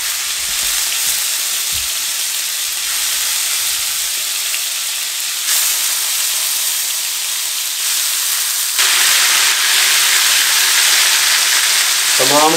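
Chicken tikka kebabs sizzle steadily in hot oil on a flat tawa over a low dum flame, a dense continuous frying hiss that swells slightly as more pieces go in, with faint clinks of placement.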